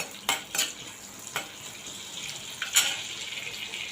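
Half a spoon of cumin seeds frying in a hot pan for tomato rice, a steady close sizzle broken by a few sharp metallic stirring scrapes and clinks, with no voices.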